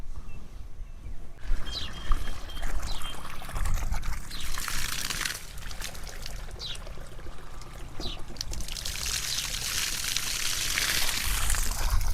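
Irrigation water pours and gushes steadily into a farm field, a continuous rushing flow with occasional birds chirping in the background.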